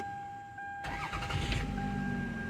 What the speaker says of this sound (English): Car is not hesitating to turn on right now